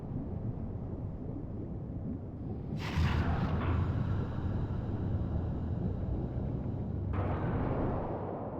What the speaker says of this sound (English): So that's the cause of the explosion.